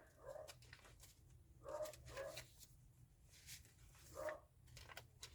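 A dog barks repeatedly in short bursts at a moderate distance, with quiet gaps between barks over a low steady hum.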